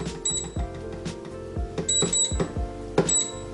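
Short electronic beeps from a Nuwave Primo grill oven sound repeatedly over clattering and background noise, close by, in quick bursts of two or three tones while setting the timer.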